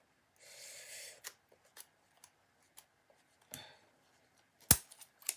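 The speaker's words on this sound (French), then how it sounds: "Alors, j'ai des vieux ciseaux là" Old scissors snipping through thin cutting dies, giving a short rasping cut followed by scattered faint clicks and snaps, with one sharp closer snap near the end, in an otherwise quiet room.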